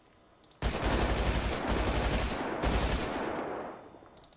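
Sustained automatic bullpup rifle fire in the FiveM game, a loud continuous rattling burst lasting about three seconds with a brief break partway through, then tapering off.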